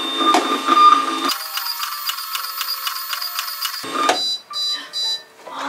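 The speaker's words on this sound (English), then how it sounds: "Then we have it hooked up to our thermal printer." A thermal printer prints shipping labels for packaged scrunchie orders with a loud, steady electronic whine and buzzing hum that holds for a few seconds, stops abruptly, then stutters in short bursts.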